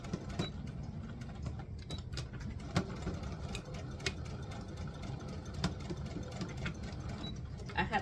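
A home sewing machine stitching bias binding tape on a garment, running in a steady fast mechanical whir with light ticking, continuous and close at low level, with no voices.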